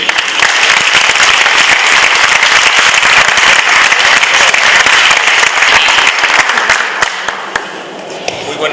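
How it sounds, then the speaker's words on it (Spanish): A crowd applauds a speaker at a legal lecture on Mexico's new Amparo Law, loud, dense clapping sustained throughout, easing slightly in the final seconds. "Pido un aplauso para nuestro ponente."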